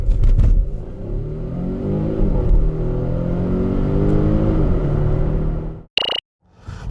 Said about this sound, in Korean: 여기에 87마력의 전기모터가 시너지를 내어서 가속을 보여주게 되는데 이때의 느낌이 상당히 좋거든요